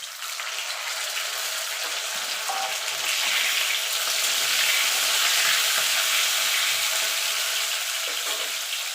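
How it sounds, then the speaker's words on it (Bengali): Fried potatoes with a tomato added sizzle and crackle steadily in a pan, a loud, close, continuous frying hiss with faint stirring through the clip. "আলুটা ভাজা হয়ে গেছে। দিয়ে দেবো একটা টমেটো।"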